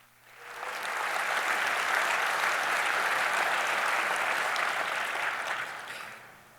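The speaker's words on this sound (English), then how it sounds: "So with that, let's give Ben a big round of applause." A conference audience applauds a speaker taking the stage for a Kubernetes talk, the clapping swelling in quickly, holding as a dense, steady roar of many hands, then tapering off near the end.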